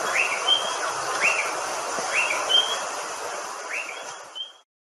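A tiny bird gives four repeated rising whistled calls at even intervals over soft background noise, clear and moderately close.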